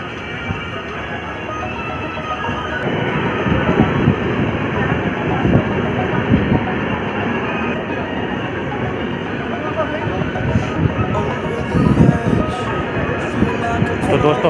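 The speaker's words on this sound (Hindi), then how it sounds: "हमारी ट्रेन हरदोई से डिपार्ट हो चुकी है और आप देख रहे हैं हरदोई स्टेशन का डिपार्चर" Kisan Express train pulling out of Hardoi station, a loud continuous rumble and clatter of wheels and carriages close by, rising slightly in intensity through the departure.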